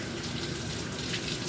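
Food rinsed under a running kitchen tap: a steady, close hiss of flowing water splashing, continuous and fairly quiet, with no talking.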